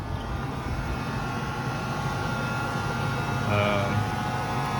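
The engine of a 2014 Toyota Prius C hybrid restarts as a steady, moderately loud running drone, with a brief tonal rise near the end and faint background noise inside the car.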